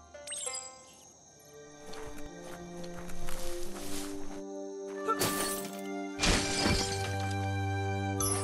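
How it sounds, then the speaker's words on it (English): A box being smashed in the game Biomutant: sharp shattering cracks and breaking wood over a droning musical background, with a few heavy knocks and footstep-like thumps, close and without talk. "You shouldn't worry about smashing up the box."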